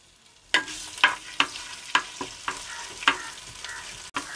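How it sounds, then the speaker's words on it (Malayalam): Crushed ginger and garlic sauté in a pan for a crab roast, with a soft sizzle under repeated sharp scrapes and clinks of a spoon stirring in quick, uneven strokes, close and clear. "ഇനി ഇതിലേക്ക് ഇഞ്ചി ചതച്ചത്, അതുപോലെ തന്നെ വെളുത്തുള്ളി ചതച്ചത് ഇതിലിട്ട് ഒന്ന് മൂപ്പിച്ചെടുക്കാം"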